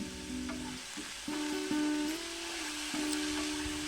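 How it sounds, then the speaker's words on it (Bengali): Potatoes frying on low flame for sabudana khichdi: a soft, even sizzle with a few spatula scrapes and short tonal squeaks from the pan, close and quiet, no talking. "গ্যাসের ফ্লেমটা লো করে আলুটা ভেজে নেব"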